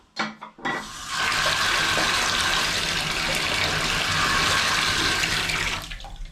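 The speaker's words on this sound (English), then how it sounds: "you can go ahead and turn the water back on" Water gushes steadily from a repaired Moen shower faucet after a cartridge replacement, a loud, continuous broadband rush that starts after a brief clunk of the valve and runs unbroken to the end, with no talking.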